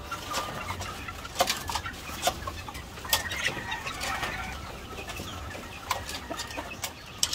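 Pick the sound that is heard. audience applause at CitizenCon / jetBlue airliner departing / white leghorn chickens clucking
white leghorn chickens clucking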